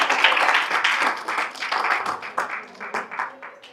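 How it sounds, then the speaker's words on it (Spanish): A church congregation applauds during a sermon, many hands clapping in a dense, lively burst that gradually thins and softens toward the end. "Denle un fuerte aplauso al Padre, el Hijo y al Espíritu Santo."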